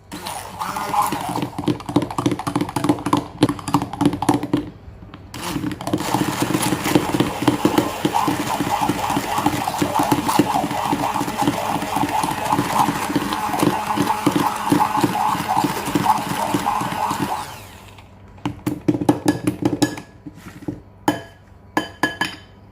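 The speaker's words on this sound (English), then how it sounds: "So I'm going to stick blend this to have this creamy" A stick blender whips a hardened butter scrub into a creamy paste for a collagen face and body scrub, a dense continuous whirring with rattling clinks against the container, pausing briefly near five seconds and giving way to scattered clinks and taps at the end.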